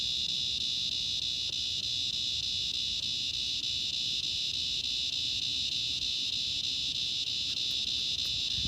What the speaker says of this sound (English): The cicada certainly has something to say.